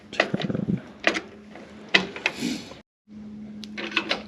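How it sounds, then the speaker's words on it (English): A screwdriver turns a screw on a Mortal Kombat arcade cabinet being restored, close ratcheting clicks and scraping mechanical sounds in short bursts with a brief quiet pause. "Grab the screwdriver and we'll just turn."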